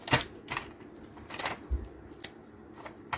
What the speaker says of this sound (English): Then we're gonna rotate the tape. You see, it will also cut for you.